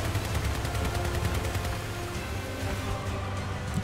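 Dense, continuous gunfire and explosions from combat vehicles in the game Crossout, including retcher weapons coating an area with blasts, forming a loud, unbroken barrage throughout.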